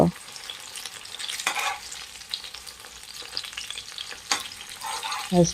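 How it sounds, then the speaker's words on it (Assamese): Chital fish frying in a little oil crackles and sizzles steadily in a pan, with intermittent sharper scraping and stirring bursts, close and fairly loud, no voices. "মাছ পিচ ধুনীয়াকৈ হৈছে তেল বেছি লগা নাই এনেকৈ ভাজিছোঁ"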